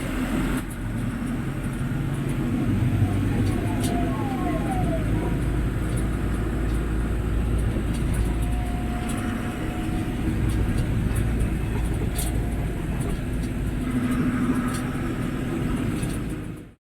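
Car driving through Jaipur city traffic and out onto a highway, a steady broadband road and engine rumble throughout with faint passing-vehicle tones and occasional distant horns, no voices.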